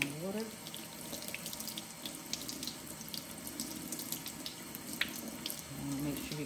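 A sink tap runs steadily at close range, water splashing and gushing continuously while makeup brushes are rinsed, with a brief voice near the start and end.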